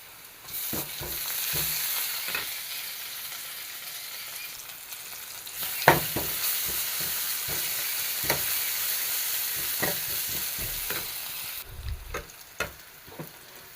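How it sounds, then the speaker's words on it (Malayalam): Crushed ginger and garlic frying with browned onions in a pan, a continuous close sizzle with repeated sharp clicks and scrapes of stirring throughout, no voices. "ഇതിലോട്ട് ഇഞ്ചി വെളുത്തുള്ളി ചതച്ചിട്ട് കൊടുക്കാം"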